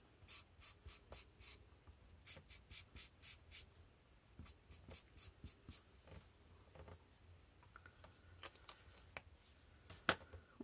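Marker or felt pen strokes colouring a handmade Christmas card hat in black, a quiet run of regular rhythmic scratching strokes up close, then sparser taps and scratches, with no talk.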